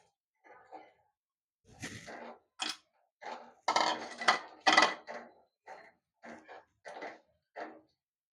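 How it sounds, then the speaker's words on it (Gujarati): Lemons going into a pot for salted lemon pickle make a run of separate bright clatters and thuds. They come in uneven bursts and sound close by, and no one speaks. "તો હવે આપણે આ લીંબુ નાખી દેશું અંદર"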